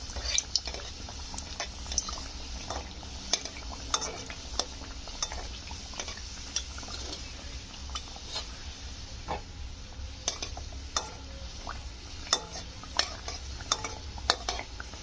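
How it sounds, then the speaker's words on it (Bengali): A single piece of dough snack frying in a pan for a homemade tiffin, giving a steady low sizzle with scattered clinks and stirring taps from a utensil, close and moderately quiet with no talk. "আমি এখানে একটা করে দিয়ে ভেজে নেব"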